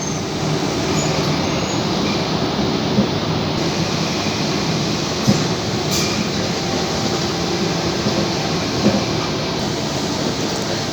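A Sydney train running on the rails between suburban stations, heard from inside as a steady, loud rumble and rattle of wheels on track with a few faint clicks and squeaks, and no talking.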